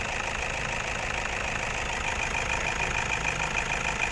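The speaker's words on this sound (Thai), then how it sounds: "ฟังเสียงเครื่องยนต์นะครับรถ 8 ปีนะครับ" The engine of an eight-year-old Toyota Vigo Champ 2500 pickup, rated at 120 hp, idles steadily with an even, moderately loud hum and no voices over it.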